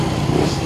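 A small motorcycle engine runs steadily at close range ahead of a road test, a continuous buzzing drone with no pauses, heard alone without talk.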